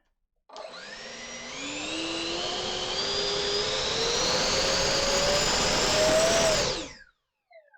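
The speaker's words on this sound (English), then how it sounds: "since we have the battery plugged in, let's give this thing a little throttle test." Skynetic Havok Racer 1000mm RC plane's electric motor run up on the ground, a loud whine climbing steadily in pitch for about six seconds before cutting off, with nothing but the motor heard.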